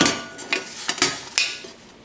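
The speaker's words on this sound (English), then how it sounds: "And start stirring until it melts all the way." Melting butter stirred in a pan with a utensil: a few quiet metallic clinks and scrapes against the pan, spaced irregularly, with no talking.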